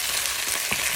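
Chicken frying in a pan sizzles loudly and steadily, with a few soft stirring scrapes breaking through the constant hiss.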